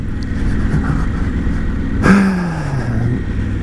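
A small licence-free microcar (voiture sans permis) drives past on a road, its engine hum swelling briefly as it passes close by and then receding over steady background traffic noise.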